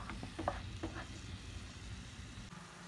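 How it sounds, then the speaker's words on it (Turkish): Ground meat fries without oil in a pan, a steady soft sizzle with a few scraping stirs and clicks of a spoon early on, close and quiet. "Öncelikle kıymamızı yağsız olarak kavuruyoruz."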